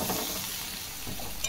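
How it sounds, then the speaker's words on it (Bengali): Chopped ridge gourd fries in a pan with salt and turmeric, giving a soft, steady sizzle with faint stirring scrapes. It is brief and quiet, with no talk. "ঝিঙেটা আমি খুব ভালোভাবে নেড়ে নিয়েছি।"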